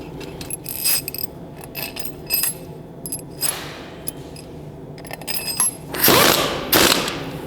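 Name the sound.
ratchet wrench turning bolts during pre-assembly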